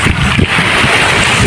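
Wind at a beach roars steadily and loudly, buffeting the microphone as a constant blustery rush with no voices.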